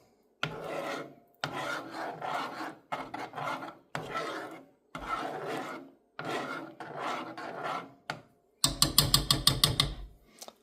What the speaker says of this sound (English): Now we'll mix this cheese in.